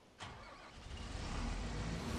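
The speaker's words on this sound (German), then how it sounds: "Ich sollte erst den Motor starten." Combine harvester engine starting in Farming Simulator 17: a sudden engine catch after a brief quiet moment, settling into a steady, loud mid-pitched running rumble.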